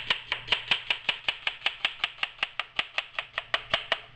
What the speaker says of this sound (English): we're going to take a half an onion and we're going to cut it julienne